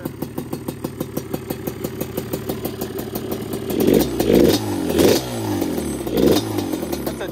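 ATV engine, Banshee 350 or KTM 450, running with the air box off, idling with a rapid rough pulse up close, then several sharp throttle blips rev it up and drop back.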